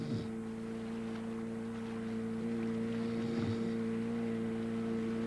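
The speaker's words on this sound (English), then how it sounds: "the drone of the engine, the icy water gently lapping around your feet" A boat engine drones steadily on a mountain river, a low, even hum with faint wind and water noise around it that holds through the whole clip.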